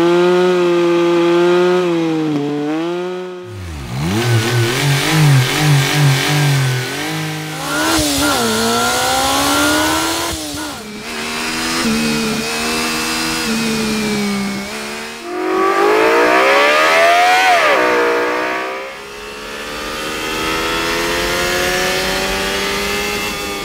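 A series of separate car engine recordings with different cylinder counts, each revving and accelerating with a different tone, from low burbles to higher, buzzing whines, loud and close.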